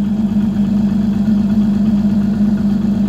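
An Evinrude Etec outboard motor with a sticky throttle runs steadily in forward gear near idle, a loud, even low hum close by with no voices.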